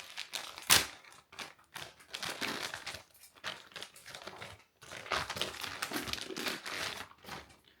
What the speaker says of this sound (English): And if I try to remove the plastic.